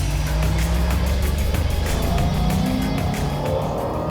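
A Jaguar XKR Supercharged engine drones loudly with a high supercharger whine rising in pitch over a few seconds; no voices.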